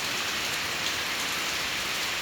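Steady monsoon rain pours down in Laos, a dense hiss of drops hitting a surface, constant and fairly close with no voices.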